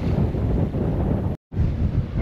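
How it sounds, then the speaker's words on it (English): Sailboat moving through 1 to 2 foot wind waves and swell off the Cranberry Islands, Maine, with steady loud wind buffeting and water rush throughout, broken by a brief dropout. "So every now and then we get a somewhat bigger block of water to sail over."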